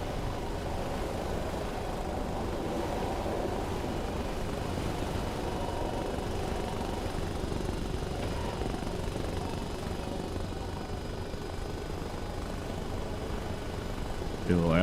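A helicopter flies in the video game Arma Reforger, with a steady broadband rotor and engine drone holding constant and fairly loud throughout. A voice speaks briefly over it.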